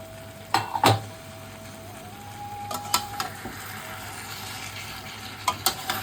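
Malabar spinach leaves and a hilsa fish head are turned over in a pan, with quiet scraping stirs and utensil clicks over a faint simmering sizzle, close and without speech.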